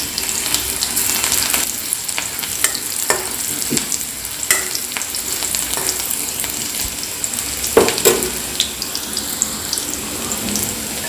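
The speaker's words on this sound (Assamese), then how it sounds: "পিঁয়াজখিনি দিয়াৰ পাছত দিছোঁ কেইটামান গোটা জিৰা, শুকান জলকীয়া 2টা, অলপ সময় ভাজিবলৈ দিম।" Onions, whole cumin seeds and two dried chillies fry in oil for a chana dal curry, giving a steady close sizzle broken by the clatter and scrape of a spoon stirring the pan.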